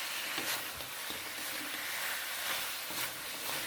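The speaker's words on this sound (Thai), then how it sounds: "ผัดทุกอย่างให้เข้ากันอีกทีนึงนะครับ" Garlic black pepper pork ribs are stir-fried in a pan, giving a steady close sizzle with soft scraping stirs every second or so and no voices.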